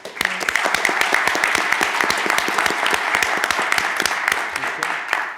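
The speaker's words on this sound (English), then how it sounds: "let's give her a round of applause" Sustained round of applause from a board of commissioners meeting audience, dense clapping at steady loudness throughout, with a brief voice at the start.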